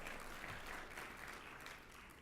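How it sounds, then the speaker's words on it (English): Keynote audience at a gathering of Arab Americans with Governor Terry McAuliffe gives a steady round of applause, a dense, fairly quiet wash of clapping that holds evenly and eases slightly toward the end. "give yourselves a great round of applause"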